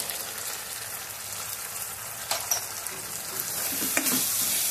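Spices (chili powder, coriander powder, turmeric and masala) stirred in a hot pan for restaurant-style noodles, with a steady sizzle and scraping strokes throughout, growing slightly louder near the end, no voices.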